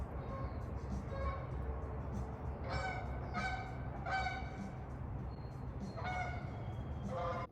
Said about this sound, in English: these geese rudely interrupted me